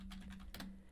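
Brief, quiet keystrokes on a computer keyboard, two or three soft clicks entering a number while a steady low hum runs underneath.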